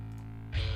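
Bass guitar run through a Neural DSP Parallax distortion plugin, a steady low sustained note that thickens into a louder, gritty distorted attack about halfway through, heard alone.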